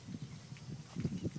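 Dairy cows on a Poowong farm walk back across concrete, their hooves giving a soft, irregular clopping of several close steps at low volume.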